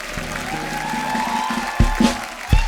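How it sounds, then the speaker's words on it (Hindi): A studio audience at a televised comedy talk show applauds in a steady, dense wash of clapping, with a few heavier thumps toward the end and voices faintly audible underneath. "एक बार जोरदार तालियां हो जाए।"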